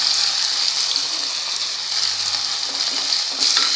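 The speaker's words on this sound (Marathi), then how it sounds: "कांदा छान तेलात मिक्स करून घ्यायचा आहे." Finely chopped onions, four of them with cumin, fry in hot oil in a pan on high heat, giving a steady close hiss and crackle that runs unbroken without any talk.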